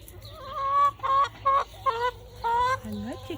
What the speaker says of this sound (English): everybody should have a couple of chickens